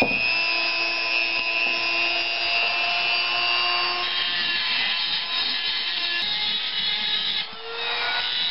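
Steady, close abrasive grinding and sanding on the handle grip of a custom Coleman fixed-blade knife, a continuous whirring rasp with a brief dip near the end.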